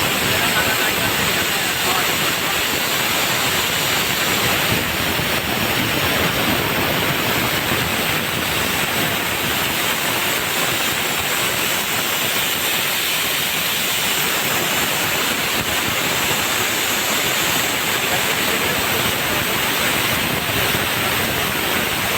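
Knitting machine running in a garment factory's knitting section, giving a loud, steady mechanical roar with dense broadband clatter that continues without a break.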